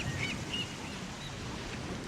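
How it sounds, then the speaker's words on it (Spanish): Ocean waves wash steadily onto a shore at a low, even level, a soft continuous surf with faint bird calls above it, heard alone. "Las olas."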